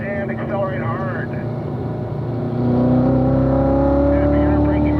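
Race car accelerating hard out of a corner apex on the Ron Fellows track, engine note loud and rising steadily in pitch over a constant rumble, with an instructor's voice talking over it early on.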